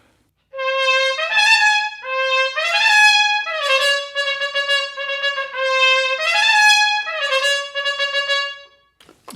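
A brass instrument plays the Goldenberg and Schmuyle rhythm from Pictures at an Exhibition with the note values almost doubled, giving quick repeated figures and short runs, close and clear, with no talking.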